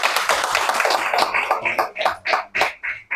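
Applause from an audience at a community gathering with royalty, chiefs and elders, a dense burst of many hands that thins into a few slower, separate claps, loud and close.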